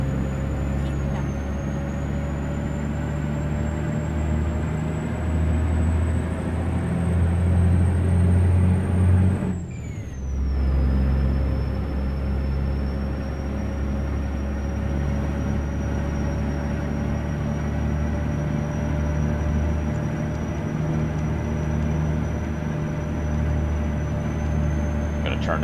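Kenworth W900 truck driving in American Truck Simulator, a steady low engine drone with road rumble running throughout at a constant level, a brief dip near the middle, and faint talk over it.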